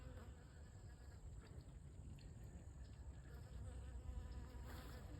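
Yellow jackets buzz faintly around a tree outdoors, a soft continuous insect hum under low background noise.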